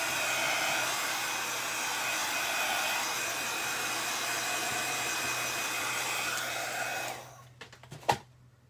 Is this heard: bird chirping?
no